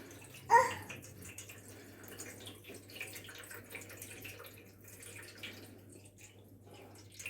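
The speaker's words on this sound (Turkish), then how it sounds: "Şimdi tepsime şöyle kaselerimin kenarına gelecek tepsimin de hemen hemen yarısına gelecek kadar suyumu ilave ediyorum." Water poured into a baking tray around bowls of oven-baked rice pudding, a faint steady trickle and splash after a brief louder clatter at the start.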